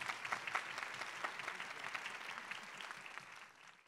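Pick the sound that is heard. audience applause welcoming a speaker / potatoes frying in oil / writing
audience applause welcoming a speaker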